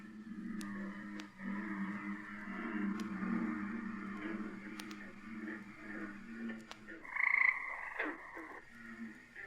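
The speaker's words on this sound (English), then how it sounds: "the bullfrogs making an awful racket" Bullfrogs croaking at night by a pond, a chorus of deep, repeated calls at moderate distance with higher frog notes layered in, one louder burst near the end, no voices.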